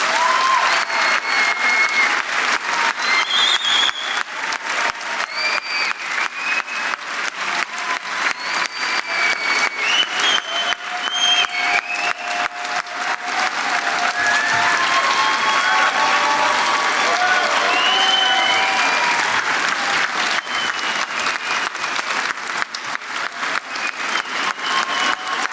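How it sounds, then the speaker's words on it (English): Sustained, loud applause from an audience at a dental school white coat ceremony, dense steady clapping filling the hall with a few scattered cheers, continuing without a break. "Please join me one last round of applause for these outstanding individuals."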